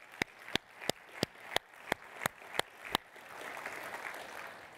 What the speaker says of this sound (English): And one more round of applause for David Horsey.